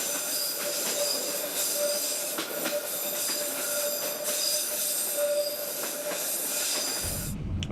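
A train rolls along the rails with a steady, loud rumble and a sustained high-pitched wheel squeal heard from onboard, continuing for several seconds before a change in the low rumble near the end.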